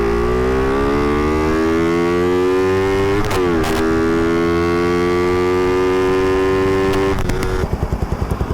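A Honda Raider Fi motorcycle with its stock exhaust pipe and muffler idles loud and close with a crisp, buzzy drone, then revs up and settles, with a sharper blip near the end.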